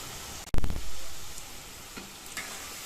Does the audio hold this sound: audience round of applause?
no